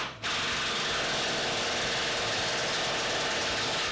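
A pneumatic impact gun hammers fifth wheel mounting bolts on a 2008–2010 Ford Super Duty, a loud, continuous rattling drone with dense rapid impacts that starts abruptly and runs steadily, up close with no talking.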